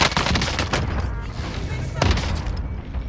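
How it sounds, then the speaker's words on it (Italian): Gunfire in a multiplayer shooter video game: sharp shots crack near the start and again around the two-second mark over a constant busy game din, with voices present. "Mi sparano."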